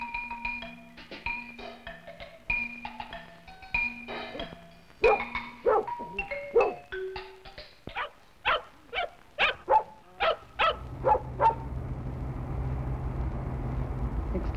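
Several dogs at a dog obedience school bark and yip in quick repeated bursts, close and fairly loud, with a steady engine-like hum running underneath toward the end.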